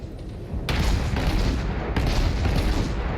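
Naval guns on a World of Warships battleship fire in two heavy, booming salvos about a second apart. Each blast rolls into a loud, sustained rumble, with no talking over it.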